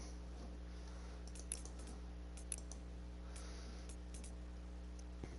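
Soft, sparse computer keyboard typing, a few faint clicks spread out over steady electrical hum.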